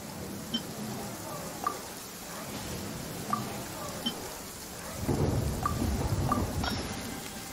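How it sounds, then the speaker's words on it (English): Steady rain pours down during a thunderstorm in Genshin Impact, with a heavier rumble of thunder swelling in the second half and faint game chimes scattered throughout. "Many mortals fear lightning."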